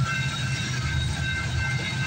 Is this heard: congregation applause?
no